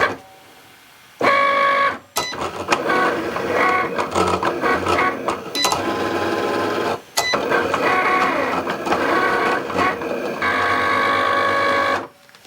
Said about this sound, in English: I'm gonna go ahead and load this material and just press go to cut.